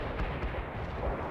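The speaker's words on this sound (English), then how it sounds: "Anti-tank strike is inbound." Heavy explosions from an anti-tank strike in the war video game World in Conflict, a dense, continuous rumbling barrage of booms filling the short stretch without pauses.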